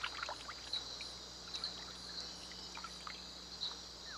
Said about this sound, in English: razor-sharp claws through the water, scoops up its prey